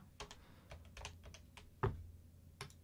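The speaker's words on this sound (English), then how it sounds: "So you type in the keystroke you would like" Keys are pressed on a computer keyboard in an uneven run of soft, close clicks, with one heavier keystroke partway through and no talking.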